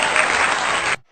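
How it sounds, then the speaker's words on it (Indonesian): Classroom applause for a student group, a dense burst of clapping from many hands that holds steady for about a second and then cuts off abruptly. "Mari berikan tepuk tangan untuk kelompok 1."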